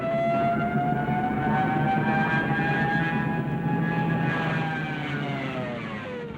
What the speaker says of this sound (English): There's also this terrifying siren noise.